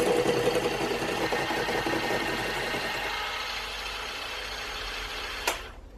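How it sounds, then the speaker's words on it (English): An electric mixer beats caster sugar into gluten-, lactose- and yeast-free cupcake batter, a steady close whirring drone that runs for several seconds before cutting off with a short click. "And now mix together until light and fluffy."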